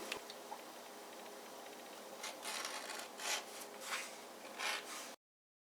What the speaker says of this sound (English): trim the edges of this and burnish the leather